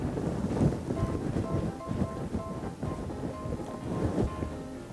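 Heavy rain pours down as a steady, dense roar with a low rumbling hiss, broad and continuous throughout, with no voices.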